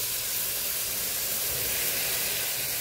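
Pure coconut milk hitting a hot oiled pan, giving a steady broadband sizzle and hiss that holds evenly throughout, close and moderately loud, with no talk.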